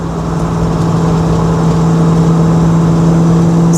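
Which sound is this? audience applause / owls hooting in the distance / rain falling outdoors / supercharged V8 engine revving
supercharged V8 engine revving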